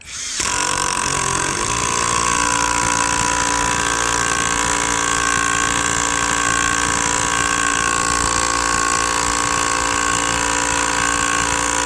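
A 12-volt Dnipro-M cordless drill drives screws into dry elm, its motor whining steadily and loud for nearly the whole stretch after a brief start, with no pauses or talk.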